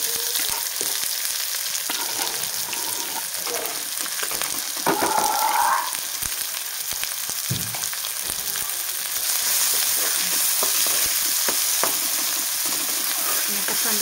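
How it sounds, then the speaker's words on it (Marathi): Green chillies and onion frying in hot oil in a pan, a steady close sizzle with occasional stirring scrapes and clinks throughout. "कांदा छान परतून घेऊया."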